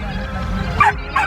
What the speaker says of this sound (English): That is Simba who was barking because he was sitting alone behind with Snoopy.